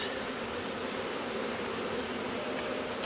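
Bees buzzing in a steady, dense drone around an eight-frame beehive box, a continuous close hum with no voices.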